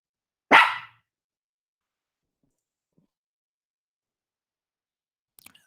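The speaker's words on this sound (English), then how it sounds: "Quiet dog." A single sharp, loud dog bark rings out close by, followed by near silence with only a couple of faint clicks at the end.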